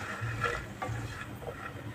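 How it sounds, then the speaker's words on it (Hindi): Ingredients for sheer khurma sautéing in a pan, a soft continuous sizzle with light scraping and stirring strokes, close and fairly quiet. "इसको 1 मिनट के लिए सॉटे करेंगे।"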